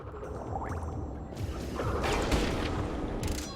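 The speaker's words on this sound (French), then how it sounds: "il faudrait que j'attende que les deux ventilateurs" Rotating fans in a level of the video game Crash Bandicoot N. Sane Trilogy give a steady mechanical whirring with rattling, ratchet-like ticks and a few swooshes that swell slightly toward the end.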